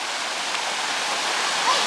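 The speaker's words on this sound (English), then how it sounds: "here we have a little waterfall quite nice, isn't it?" A small woodland waterfall rushes in a continuous broad roar, loud and close, steady for the whole moment with no break and no clear talk over it.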